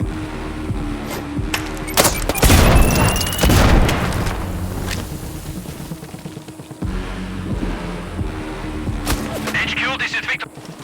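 A frag grenade goes off in the shooter game Sniper Ghost Warrior Contracts 2, a loud boom with a rolling rumble amid other game noise, followed by a quieter stretch and more distant combat sounds.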